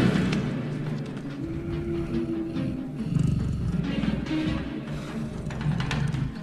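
A cougar growls in a film scene, a deep rumbling snarl that swells and pulses over a dense, dramatic background.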